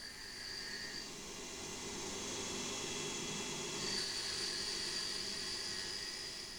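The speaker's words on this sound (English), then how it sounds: "there's a singing noise going on as the tool is advancing along the part" A CNC lathe with a sharp aluminium insert turns timber moulds, giving off a faint, steady high-pitched singing chatter that fades briefly and returns over a low machine hum.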